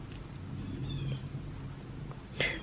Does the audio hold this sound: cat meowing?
yes